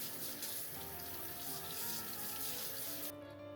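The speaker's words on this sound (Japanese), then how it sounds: "皮は剥かずに作るのでよく洗いましょう。" Kitchen tap water runs steadily into a sink while a whole daikon radish is washed with its skin on, a continuous close splashing flow that cuts off near the end.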